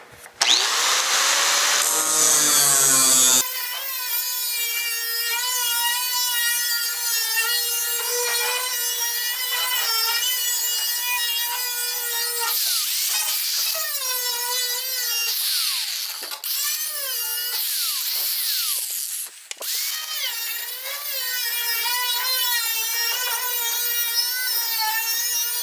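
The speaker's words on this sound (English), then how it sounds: "I'm going to cut this side first." A power tool cuts the steel trunk lid of a 1956 Chrysler 300, a loud, high, whining screech with shifting pitch that runs almost continuously, dipping briefly a few times.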